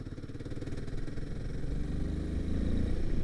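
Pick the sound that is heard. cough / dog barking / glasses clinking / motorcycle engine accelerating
motorcycle engine accelerating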